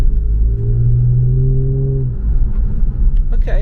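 An Infiniti Q50 widebody's VQ engine grumbles while driving on coilovers: a loud, steady low rumble with a rising tone that settles back, heard close from inside the car.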